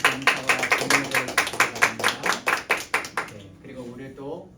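Congregation at a Sunday church service applauding the service accompanist, a brisk run of close rhythmic clapping that fades out after about three seconds, with voices underneath.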